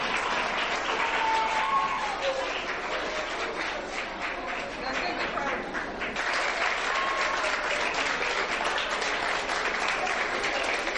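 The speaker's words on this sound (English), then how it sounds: "A round of applause for them." An audience at a televised school debate in Port Harcourt applauds the winning side: sustained, full crowd clapping with a slight dip midway, then swelling again and continuing without letup.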